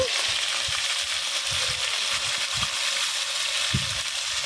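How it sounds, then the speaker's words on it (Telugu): Camel meat, freshly washed, frying in a pan with coconut powder for a curry, giving a steady broad sizzle throughout with occasional low stirring knocks and scrapes, close and fairly loud, no talking. "ముందుగా నీట్గా వాష్ చేసి పెట్టుకున్న క్యామెల్ మీట్ని అయితే వేసేసుకోవాలి"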